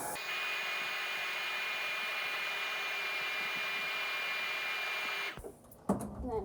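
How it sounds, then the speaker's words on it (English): A hair dryer blowing steadily with a constant whirring hum, close by, then it cuts off near the end followed by brief handling noises. "I'm going to dry it with this hair dryer until it's dry"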